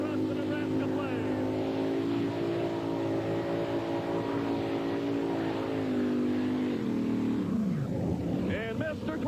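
A modified pulling tractor roars at an NTPA tractor pull in Nebraska, its engine a loud, continuous drone that holds steady and then dips in pitch near the end, with an announcer's voice over it.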